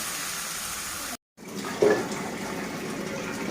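Water pours into a pan of ridge gourd, a steady rushing splash that cuts out for a moment and then comes back slightly louder, close and alone.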